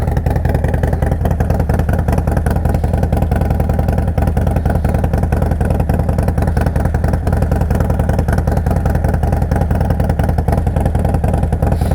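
Harley-Davidson Softail Street Bob, Stage II build, rumbling steadily through a Two Brothers Racing exhaust, a loud close idle with constant low pulsing throughout and no talk.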